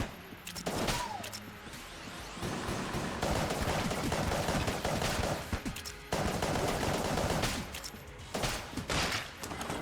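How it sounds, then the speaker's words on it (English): Enemies in Enter the Gungeon fire rapid volleys of shots, dense overlapping bursts of gunfire sustained for long stretches with brief pauses, loud and constant with mechanical clatter. "These guys fire a lot of shots."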